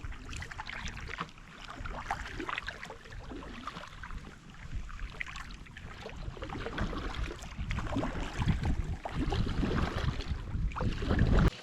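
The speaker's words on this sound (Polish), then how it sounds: "Jesteśmy na kajaku. E, płyniemy" Kayak paddling on open water near a small island, with broadband splashy wash, gusty wind buffeting and irregular paddle strokes throughout, growing louder toward the end.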